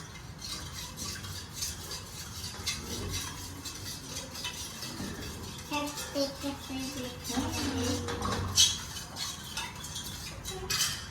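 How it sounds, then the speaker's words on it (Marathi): A parent and young child mix food in a bowl for a home recipe, with soft scraping and light clinking of a spoon against the bowl. Quiet voices talk in the background. "मी थोडं मिक्स करून देतो तुला"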